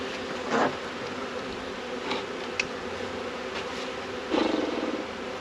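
Honeybees buzz at a crowded eight-frame hive that keeps trying to swarm, a dense continuous hum close by with a few louder passes of single bees, and no talking.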